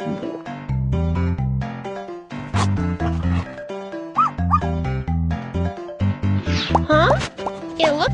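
A dog barks and yips in short bursts over steady background music, with a few higher whimpering yelps near the end.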